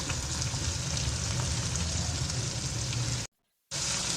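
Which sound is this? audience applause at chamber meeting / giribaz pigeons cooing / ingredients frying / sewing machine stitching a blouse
ingredients frying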